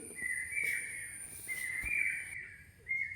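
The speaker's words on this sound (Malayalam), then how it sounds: "കിളികളുടെ ശബ്ദം കേട്ടോ" Birds chirping near a guava tree in a rainy garden: sustained high whistling calls in repeated long phrases, fairly close and clear over a soft background hiss, with no talking.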